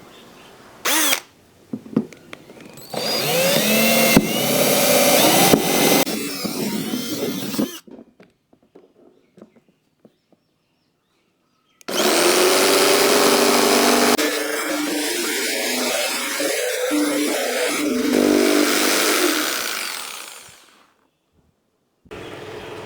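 A power tool cuts through PVC pipe in two long, loud bursts of whining, grinding noise, separated by a few seconds of quiet with faint handling sounds.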